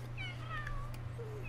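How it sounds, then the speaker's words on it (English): A cat in The Sims 3 meows a few times in quick, rising and falling calls, fairly close, over a constant low electrical hum. "making friends with a cat."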